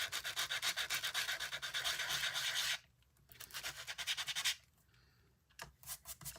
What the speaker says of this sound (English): I'm going to grab my sanding block and expose these trees and then the stumps